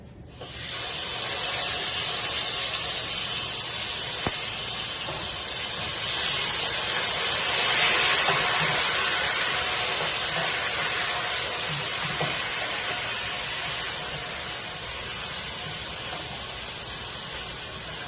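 Food sautéing in a hot pan, a loud, steady hissing sizzle close up that starts abruptly and holds for the whole stretch, slowly easing off toward the end.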